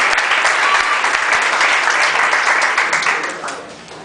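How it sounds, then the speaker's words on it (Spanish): A church congregation bursts into loud, steady applause that fills the room, then gradually fades in the last second. "Y la iglesia le da una ofrenda de palmas."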